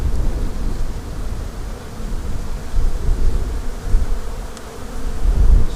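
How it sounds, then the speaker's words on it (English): Dense, steady droning of honey bees inside a hive body during a January hive inspection, a close, continuous low buzz that swells slightly toward the end, with no talking. "usually you don't see this many bees in the bottom."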